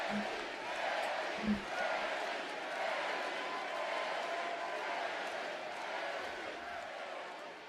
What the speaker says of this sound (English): Bailey's getting applause, bro.